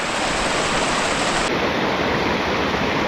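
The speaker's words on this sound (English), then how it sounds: "We got this cute little waterfall across the trail going down" A small waterfall spilling across a hiking trail gives a constant, loud rushing hiss of falling water, steady and close with no breaks or voices.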